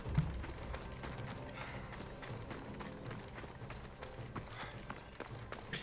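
Horse galloping in the video game Assassin's Creed Odyssey, a steady run of hoof beats with some mechanical clatter, continuous and moderately close at an even level throughout.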